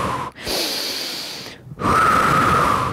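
Close, loud breaths during a beginner Pilates exercise: a short sharp intake, a sustained breathy exhale, a brief pause, then another strong exhale.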